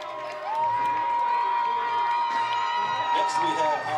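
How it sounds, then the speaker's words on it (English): A high school football game crowd cheers and applauds for the homecoming court's 9th grade prince, a long sustained shout riding steadily over the dense din. "Let's give him a round of applause."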